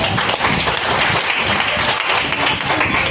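Steady applause from a crowd, dense continuous clapping throughout without a break.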